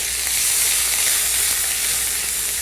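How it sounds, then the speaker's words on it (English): Asafoetida powder and fresh ginger frying in a pan, a loud, even, close hiss of hot oil sizzling steadily throughout. "Stir it up a bit."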